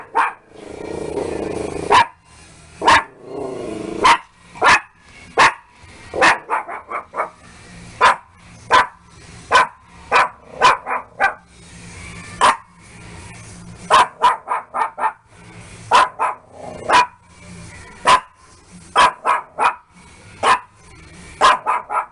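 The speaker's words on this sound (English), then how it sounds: "And what are you barking at?" A dog barks repeatedly indoors, sharp close woofs coming singly and in quick pairs throughout, with a few yips and brief gaps of quiet between bursts, while someone speaks at the start.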